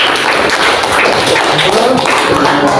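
An audience claps together in a dense, loud, continuous burst of applause that holds steady throughout, with faint voices mixed in.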